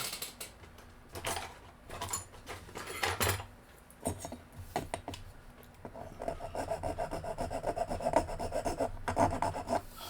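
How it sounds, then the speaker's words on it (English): Hand file rasping on a Hot Wheels custom super van diecast model, close and fairly quiet, in repeated short scraping strokes with brief pauses between bursts. "I'm going to go ahead and file these down just a hair with the hand file."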